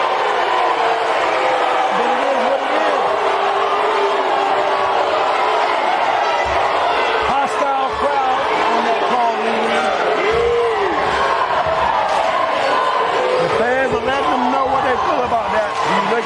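Basketball crowd at a high school game between Unaka and Hampton reacting with loud, sustained displeasure, a dense wall of voices filling the gym throughout with scattered shouts and brief sharp bangs.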